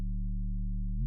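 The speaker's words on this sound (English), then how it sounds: "So I'm going to be using these vintage amps to give me more grit, more distortion, to get that 808 sound." 808 bass note pushed through a vintage soft tube amp for grit and distortion, a deep, sustained, steady low tone with rich harmonics that holds for about a second before cutting off, with no talk.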